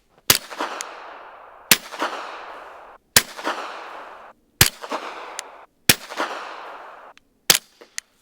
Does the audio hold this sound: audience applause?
no